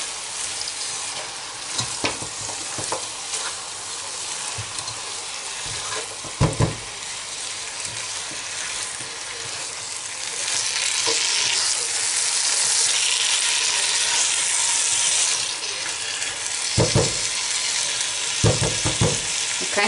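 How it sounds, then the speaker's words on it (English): Mutton with onions, tomatoes and garlic frying in a pan, a loud continuous sizzle with scattered spoon scrapes and clatters from stirring, the hiss swelling louder midway, heard close with no talking. "Give it a stir, get all the onions and all the tomatoes, garlic and everything on the meat."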